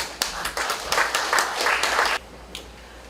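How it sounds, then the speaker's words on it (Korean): Applause from an audience at a book launch event, a burst of clapping for about two seconds that stops abruptly, followed by a single faint tap. "큰 박수로 맞아주시죠."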